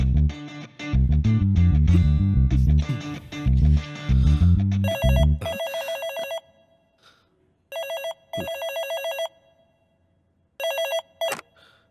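A telephone rings with an incoming call, sounding in repeated electronic bursts with short gaps after loud music, the rings clear and close.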